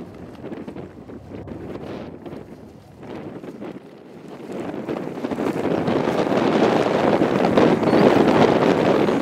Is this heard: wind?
yes